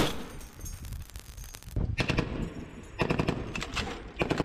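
An M2HB heavy machine gun fires aboard a U.S. Navy destroyer in several loud, rapid bursts separated by short pauses, with a hard rattling chatter and a reverberant tail.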